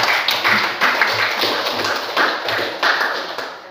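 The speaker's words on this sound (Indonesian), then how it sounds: "Oke, kita aplaus untuk kita semua." A small classroom group claps together after a discussion, quick irregular hand claps forming a brief, moderately loud burst of applause that tapers off.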